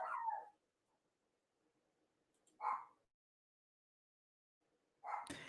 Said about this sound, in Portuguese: A essa hora o cachorro começa a latir e tudo mais